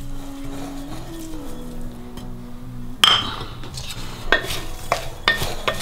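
Green chilli pickle is stirred and mixed with ground dried seeds, with soft clinks of a utensil against the bowl and scraping stir sounds growing busier in the second half, without talk.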